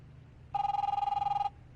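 An 80s-style brick mobile phone rings in The Wolf Among Us, one steady electronic warbling trill lasting about a second, clear and close over a low background hum.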